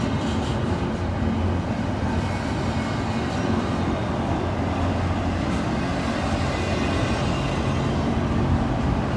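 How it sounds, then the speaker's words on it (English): A Norfolk Southern freight train rolls slowly past at close range, a continuous loud rumble and clatter of wheels on rails holding steady throughout. "Well, this train's just going really slow."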